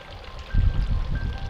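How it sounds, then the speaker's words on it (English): Spiced rum poured into a glass, a short, soft trickle of liquid that splashes in two quick bursts. "So I'm adding in 1 ounce of spiced rum"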